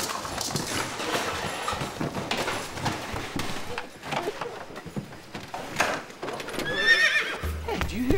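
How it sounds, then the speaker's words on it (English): A horse whinnies and neighs while its hooves clip-clop along in a children's TV show scene, with several loud whinnies over steady hoofbeats and a busy, lively background. "A horse!"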